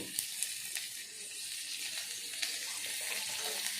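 Onion frying in a pan as chopped tomato goes in, a steady soft sizzle with faint ticks and pops throughout, fairly quiet and with no voices.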